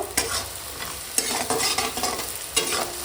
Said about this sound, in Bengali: এখানে আছে বড়ি খেঁসার ডালে তো এখন বড়ি ভেজে নেবো